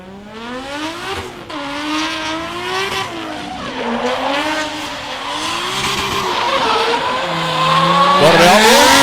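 A drift car slides around the track at Meremere Drift Park during qualifying, its engine revving loudly with rising and falling pitch while the tires squeal, building louder toward the end.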